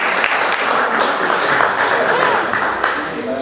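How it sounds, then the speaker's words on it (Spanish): Steady applause from delegates at a union plenary assembly fills the room, dense and loud, with voices mixed in. "Un aplauso ahí"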